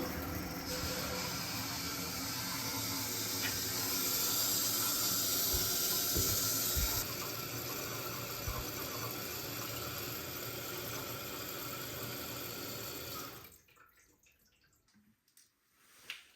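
A toilet bowl refills with water in an off-grid house built in the woods, a steady hissing rush of flowing water for about thirteen seconds that then cuts off, leaving near silence with a faint trickle.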